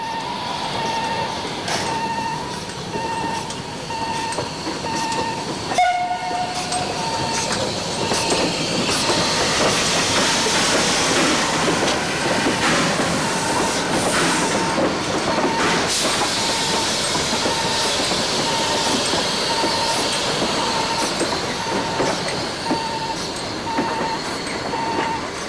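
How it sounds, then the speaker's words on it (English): A train descends a steep grade toward the Brisbane Valley, wheels clattering and squealing faintly, with a continuous rumbling roar that stays fairly close. "1009 eases her train back down the steep grades"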